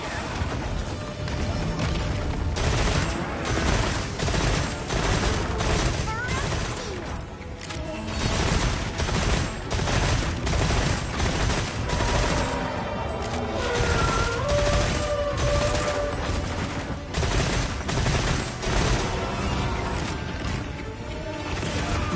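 A video game gun fires in rapid repeated bursts of shots, with pauses between volleys and a mechanical clatter, loud and close throughout.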